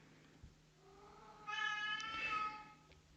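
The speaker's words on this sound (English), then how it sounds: "Oh my god, my cat." A house cat lets out a long, loud meow close by in an otherwise quiet room, the cry swelling midway and then fading, with no talking alongside.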